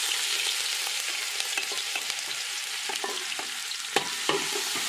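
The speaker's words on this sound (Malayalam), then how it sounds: "എണ്ണ ചൂടായി, അതിലേക്ക് നമ്മൾ സ്വല്പം വെളുത്തുള്ളി ഇഞ്ചിയോടെ ചേർക്കുക." Garlic and ginger frying in hot oil, a dense continuous sizzle with occasional stirring clicks, close and fairly loud with no voices.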